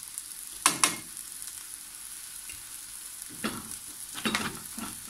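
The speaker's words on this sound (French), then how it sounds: "On va mélanger le tout pour avoir un peu de jus." Tomatoes seasoned with paprika sizzle softly in a pan while a utensil stirs them, giving two sharp scraping clatters early and a cluster of stirring scrapes near the end over a faint, steady hiss.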